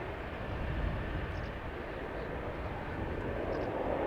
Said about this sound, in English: And the airplane that just took to the sky